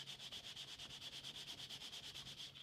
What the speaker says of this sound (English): I'm going to sand in the general direction of the damage, very gently